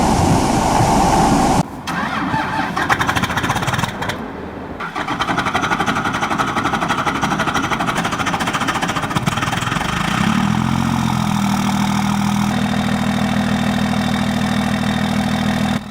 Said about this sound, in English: For a 2002 Dodge Ram 2500 HO, starting at these temperatures without being plugged in is a big ask.